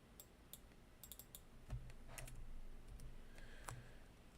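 Scattered keystrokes on a computer keyboard while entering function arguments for a NEAR blockchain contract call, faint and irregular clicks with pauses between them over a low steady hum.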